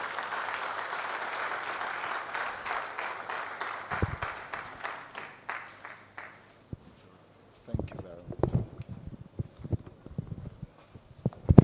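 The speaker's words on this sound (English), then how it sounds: "Please give him a round of applause." Applause from the audience at a conference session on Nigerian federalism: a broad wash of clapping for about six seconds that thins out and fades, followed by someone speaking over the hall's sound system.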